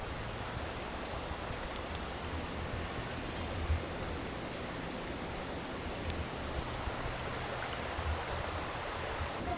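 A creek flows beside a campsite at Roan Mountain State Park, giving a steady, broad rushing wash of water that stays even and unbroken throughout, close by and with no talking.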